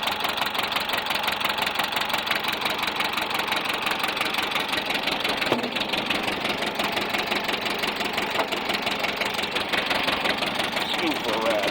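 A little motor runs continuously at close range with a fast, even knocking pulse and a steady drone throughout.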